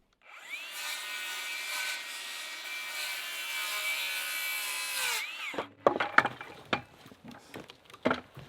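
A power saw or drill whines steadily on wood for about five seconds during loft building in an off-grid yurt, then winds down, followed by knocks and scraping handling sounds close by.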